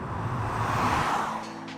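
A 2022 Subaru WRX engine's broad intake roar swells and eases, with a faint engine whine on top, heard from inside the car.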